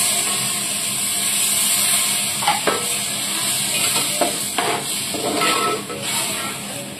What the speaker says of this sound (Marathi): आता आपण वाटणाचा थोडा पाणी आहे ना, तो टाकून घ्यायचा.